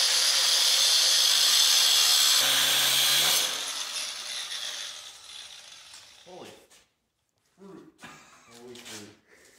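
A loud, harsh saw grinds steadily through metal for a few seconds, then fades out, followed by people talking.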